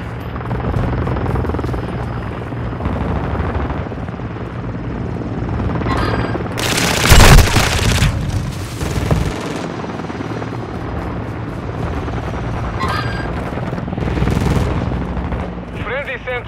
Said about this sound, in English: Friendly Overwatch helo in the area.